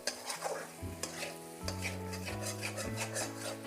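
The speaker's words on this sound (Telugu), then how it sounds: "మనం ముందుగా వేసుకున్న మసాలా పచ్చి మసాలా పేస్ట్ బాగా కలపనిద్దాం" Raw masala paste gets stirred in a pot for Konaseema-style chicken curry, with continuous scraping strokes and a soft sizzle running underneath, close and steady with no voices.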